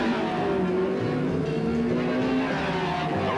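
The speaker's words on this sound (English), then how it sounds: "The engine coughs and almost dies, but springs to life as a relief crew cheers him back into second position." A race car engine during a pit stop at the 1965 Indy 500 drones steadily and loudly with a wavering pitch, coughing and then picking up. Crowd and track noise are mixed in, and no one speaks.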